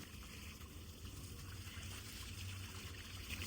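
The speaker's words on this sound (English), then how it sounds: "all it takes is some running water, and we can thaw this out pretty quickly" Running water pours steadily over a frozen air conditioner filter dryer, a constant close trickling rush with no breaks or speech.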